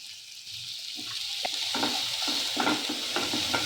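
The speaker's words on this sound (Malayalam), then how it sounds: "ഒനിയൻ ഒന്ന് സ്ലൈറ്റ്ലി ബ്രൗൺ ആവുന്ന വരെ നമുക്കിതൊന്ന് ഇളക്കി കൊടുക്കാവുന്നതാണ്" Onion, garlic and green chilli with turmeric and salt frying in a pan, a soft steady sizzle under repeated scraping strokes of a spoon stirring the mixture.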